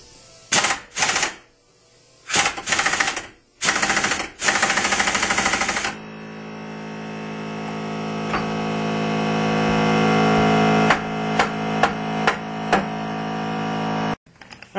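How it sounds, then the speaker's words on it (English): Pneumatic impact gun rattling off a bolt on a Polaris Indy 400 snowmobile engine, several loud close bursts followed by a long sustained run and a few short final blips in a workshop. "I ended up turning the impact gun up a little bit, or actually a lot, all the way"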